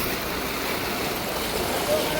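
Broadband rushing floodwater swirls around submerged vehicles in a flooded street, a steady loud wash with no clear breaks and faint voices underneath.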